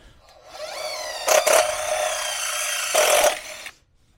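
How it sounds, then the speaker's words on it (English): A power drill with a large bit sized for an M6 bolt whines steadily at close range, with two brief louder bursts as the bit bites, then stops abruptly. "we're going to take the larger drill bit where an M6 bolt can go through"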